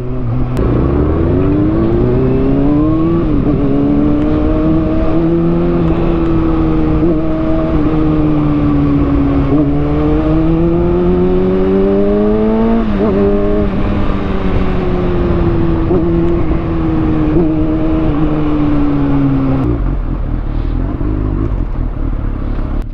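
A motorcycle being ridden gives a loud, close, continuous engine drone. The pitch rises as it accelerates and drops at gear changes, with wind and road noise underneath.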